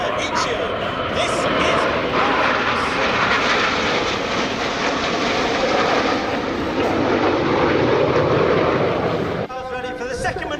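Red Arrows jets flying a formation display manoeuvre at an air show, a loud continuous roar of jet engines sustained for about nine seconds before easing, with crowd or commentary-like voices mixed underneath.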